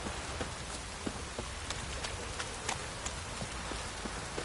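Steady downpour in the video game The Witcher 3 hisses throughout, with scattered sharper drops and taps pattering over the wash of noise.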